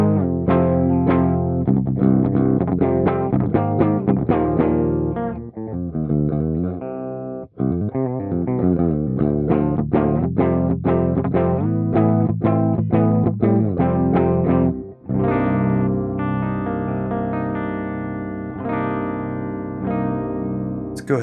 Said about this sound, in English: bring the tone all the way down and see what kind of sound we have